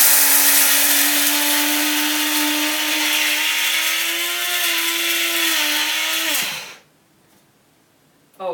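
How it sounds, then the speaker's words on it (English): A small electric spice grinder whirs loudly and steadily while grinding einkorn grain, its motor pitch drifting slightly before it switches off and winds down, leaving near silence and a brief click at the end. "that's about all that my little spice grinder will hold at one time anyway. But it won't take long until it's ground"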